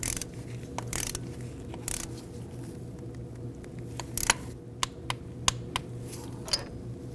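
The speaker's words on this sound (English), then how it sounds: "Now we'll go ahead and use our torque wrench." A torque wrench tightens a spark plug on a 3.2L Volvo XC60, giving a series of sharp, close ratcheting clicks spaced irregularly over a quiet workshop hum, with no talking.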